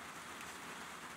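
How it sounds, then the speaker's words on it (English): Rain falls steadily in a dense, even hiss of many drops striking a surface, close and continuous with no voices. "It's raining"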